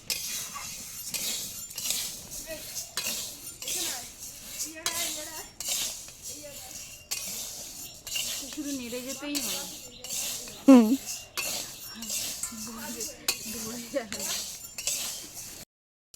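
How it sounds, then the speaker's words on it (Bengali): Mung dal roasts in a pan as a utensil stirs it, giving steady clinks and scrapes of metal against metal throughout, with brief faint vocal sounds partway through. "দেখুন বন্ধুরা ভাজা হচ্ছে"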